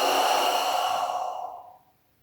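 A long, audible exhale through the mouth during a back-stretching exercise, a close breathy whoosh that holds steady, then trails off into quiet after about two seconds.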